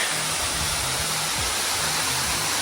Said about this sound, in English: Bonita Falls, quite the waterfall.